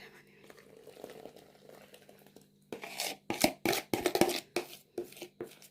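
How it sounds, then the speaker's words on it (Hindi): Pizza dough kneaded by hand in a home kitchen: soft rhythmic slaps and squelches come in quick, regular bursts after a quiet opening stretch, close and fairly loud. "तो मैंने सोचा था आज तो हम हाथ से ही गूंदते हैं।"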